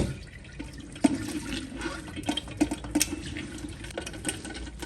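Drinking water is poured over squeezed lemons sitting in a metal strainer, a continuous splashing stream with uneven bursts of trickling and spatter, close and moderately loud.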